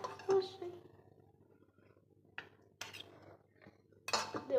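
Chicken curry gravy with potato is ladled generously onto a plate, with a few short clinks and scrapes of a utensil against dishware. People talk in between.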